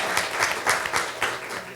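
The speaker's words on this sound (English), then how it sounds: "If we can give her a round of applause." A short round of applause at a Shaker Heights schools community meeting for the board president, a small room audience clapping in a loose, uneven patter of individual claps, fairly close and clear.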